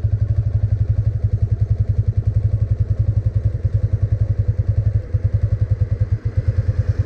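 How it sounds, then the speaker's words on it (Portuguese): A motorcycle in gear creeps away at idle with no throttle, its engine thumping in a steady, loud, close rhythm alone, with a slight stumble near the end. "a moto saiu sem acelerar"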